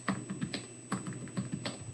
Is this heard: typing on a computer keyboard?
yes